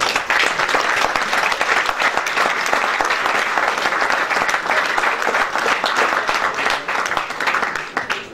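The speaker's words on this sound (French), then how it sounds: "On peut vraiment l'applaudir." Loud, sustained applause from a crowd at a charity sports event for children, continuous dense clapping lasting several seconds with no speech over it.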